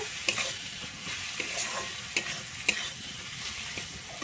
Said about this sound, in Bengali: আমি এরপরে দিয়ে দিচ্ছি একটা টমেটো কুচি। আমি টমেটোটা কিন্তু খুব ভালোভাবে এখানে কষিয়ে নেব।